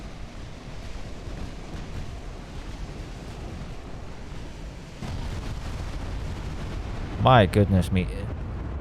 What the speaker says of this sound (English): these guys sound really scary when they fire